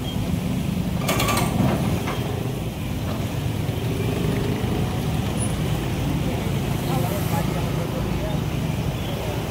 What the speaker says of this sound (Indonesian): Ini adalah pengerukan.